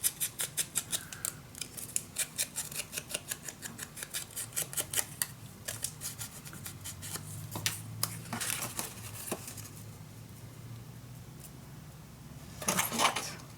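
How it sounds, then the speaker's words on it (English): Scissors snip paper for a handmade burgundy scrapbook mini album, with a quick run of crisp, evenly spaced cuts that slow and soften into a few scattered snips, followed by a rustle of paper handling near the end. "I'm only gonna cut just a tiny little angle away."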